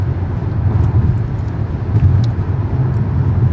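A Hyundai Palisade drives along, heard from inside the cabin as a steady low road rumble and tire hum, even and continuous with no voices.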